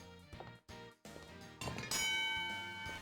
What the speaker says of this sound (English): the bell on the counter